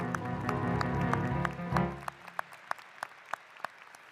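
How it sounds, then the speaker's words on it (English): Audience applause at a baccalaureate commencement ceremony, moderately loud and dense at first under a held musical tone, then thinning within a second or two to a few scattered, isolated claps. "We have another round of applause, please."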